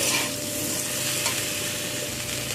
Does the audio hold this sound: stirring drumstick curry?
yes